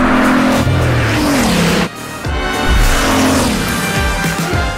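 The Bugatti Vision Gran Turismo race car drives at Le Mans, its engine roaring loud and close through rising and falling gear changes, with a brief drop in sound midway before it revs hard again.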